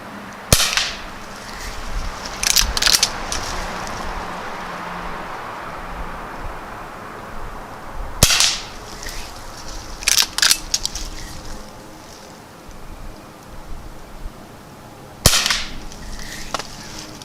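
Three sharp rifle shots from Aguila Super Colibri rimfire rounds in a Henry American Eagle lever-action rifle, spaced several seconds apart outdoors, each followed by mechanical clicks and clatter of the lever action being worked.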